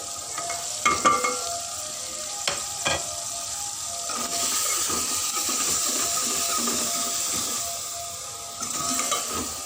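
Softened tomatoes with added spices sizzle in a pan for an aloo shimla mirch dish, a steady frying hiss broken by a few sharp spoon scrapes and clinks as the mix is stirred.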